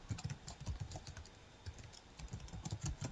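An email address typed on a computer keyboard, with rapid, irregular clicking keystrokes close by, some pausing between bursts and no talking over them.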